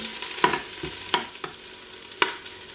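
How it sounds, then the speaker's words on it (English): Brussels sprouts sauté in an Instant Pot under a continuous soft sizzle. Several distinct scraping knocks from stirring come at irregular intervals, close and clear, with no talking. "I'm just going to give them a stir and let them saute for another about 3 minutes"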